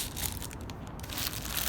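Plastic bag crinkling and crushing as it is pulled off a mower's gas cap during a drive cable change on a self-propelled Toro mower, a close, steady rustle lasting under two seconds.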